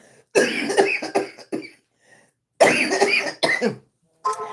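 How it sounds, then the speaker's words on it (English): A person coughs repeatedly in close, harsh bursts, two main fits separated by a short pause, with a final cough trailing off. "That's why I'm coughing."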